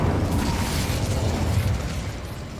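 Confringo and Incendio fire spells go off in Hogwarts Legacy, a dense, continuous rumble of fiery blasts and crackling bursts that stays loud and heavy throughout.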